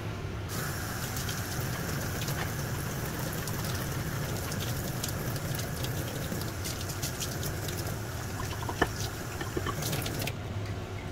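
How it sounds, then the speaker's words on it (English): Water rushes steadily into and out of a RODI filter container as it is rinsed. The rinsing stays loud and continuous for about ten seconds, with occasional knocks and clatters. "then we will rinse this container out"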